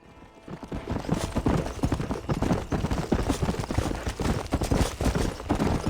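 Galloping horse hooves in the Red Dead Redemption video game, a rapid, steady clip-clop rhythm that stays loud and close throughout after a quieter start.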